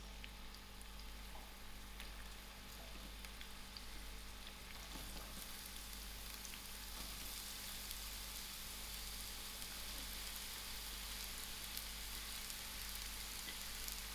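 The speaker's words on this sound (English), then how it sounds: "I'll allow these onions to fry out soft." Onions frying in garlic oil in a pan give a steady, soft sizzle with faint crackles over a constant low hum, continuing without talk.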